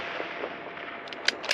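Bergara B14 precision rifle in a KRG X-Ray chassis firing on a long-range outdoor range, the shot and its rolling echo a steady broad wash, followed by sharp faint metallic ticks near the end.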